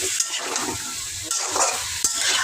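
Onion frying in a pan, a loud, continuous hiss of hot oil with a few soft stirring scrapes and one brief clink of metal, no voices.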